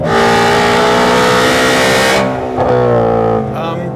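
Loud, close engine revving with a strong harmonic whine, held high then dropping off and idling before a smaller rev.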